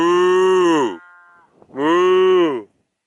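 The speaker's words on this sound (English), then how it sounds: "there are more cows here" Cows on a hiking trail give two long, loud, close moos separated by a short pause, with no talk over them.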